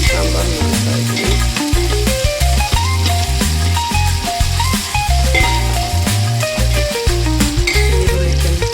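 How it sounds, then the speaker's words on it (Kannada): Onions frying in a steel pot while sambar is being made, a sizzle heard under loud background music with occasional light clinks from the pot. "ಈರುಳ್ಳಿ ಕೆಂಪುಗಾದವರೆಗೂ ಫ್ರೈ ಮಾಡ್ಕೋಬೇಕು"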